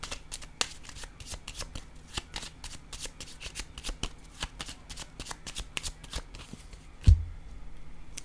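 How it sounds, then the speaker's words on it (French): Playing cards handled in a series of crisp, rapid taps and slaps as they are laid down and shuffled, close and fairly quiet, with one louder thump near the end. "Je vais déposer la carte ici."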